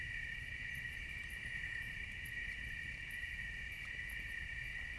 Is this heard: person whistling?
no